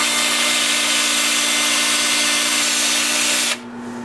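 Sanding a cherry burl winged bowl spinning on a wood lathe: a loud, steady whirring hiss with a constant motor hum, which cuts off abruptly near the end while the lower hum carries on.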